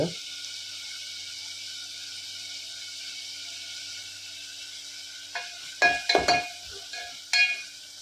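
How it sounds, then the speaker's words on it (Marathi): Chopped onion frying in a pan toward browning, a steady soft sizzle with a few clinking stirs of a spoon against the pan near the end. "कांदा मित्रांनो छान परतळून घ्यायचा आहे लाल होईपर्यंत"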